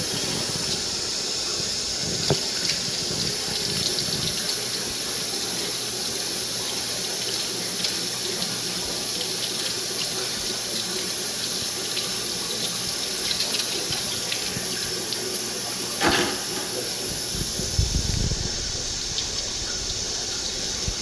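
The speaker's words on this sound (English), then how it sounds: "I'm just going to dip it in RO water." Steady running water streams and splashes continuously as a net is dipped in RO water in a basin, with a faint high whine and a brief clunk near the end.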